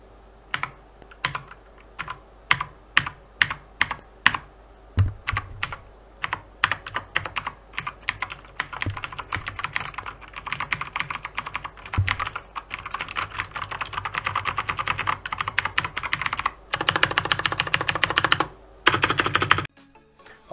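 Someone types on an MS Thunder Pro budget mechanical keyboard: close, crisp clacking keystrokes in irregular bursts, sparse at first and then denser rapid runs, with brief pauses and no talking.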